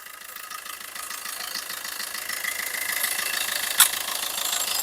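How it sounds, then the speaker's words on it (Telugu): A 2017 Maruti Ertiga VDI diesel with an SHVS engine idles in a steady, even mid-pitched drone. One short sharp click sounds near the end. "ఇంజిన్ బీటింగ్ కూడా పర్ఫెక్ట్ గానే ఉందండి"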